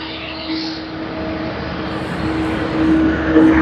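An Asiana Airlines Boeing 777-200ER at Sydney Airport, a steady jet engine roar with a faint tonal whine that grows slightly louder toward the end, heard from outside at some distance.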